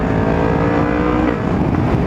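A 2021 Yamaha MT-10 SP motorcycle engine revs loud and close, a steady, powerful high-pitched roar that holds throughout with slight fluctuation and no talk over it.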